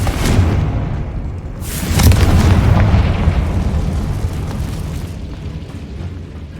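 A Confringo blasting spell explodes in the Hogwarts Legacy video game inside a decayed catacomb, a loud sustained rumbling blast that swells again after about two seconds and slowly fades, with no talking.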